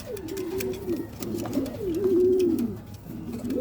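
Young racing pigeons, including red checkers, coo in a home loft with low, rolling, throaty calls repeated several times at close range over faint background noise.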